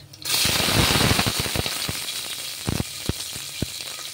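Onion hits hot mustard oil in a pan already holding dried red chilli, bay leaf and five-spice seeds, bursting into a loud sizzle with sharp crackling pops that settle into a steady fry.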